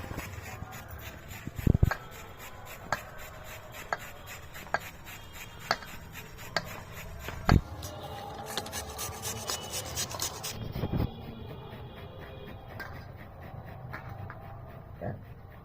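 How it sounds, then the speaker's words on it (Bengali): A peeled radish rubbed against a hand grater makes faint, irregular rasping strokes, punctuated by occasional sharper knocks, fairly close but quiet. "এবার এই ঘষুনি দিয়ে মূলোটাকে ঘষে নিচ্ছি।"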